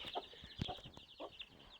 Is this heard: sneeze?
no